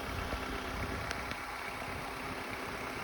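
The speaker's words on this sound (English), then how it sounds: "the engine seems to be running smoothly" A 2006 Honda Accord engine idles steadily after its internals were replaced, a quiet, even low rumble with faint vibration and a couple of brief light clicks, no voices present.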